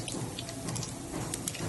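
Tempering spices crackle and sizzle in hot oil for an uppi pindi dish, a steady dense frying hiss with scattered small pops throughout.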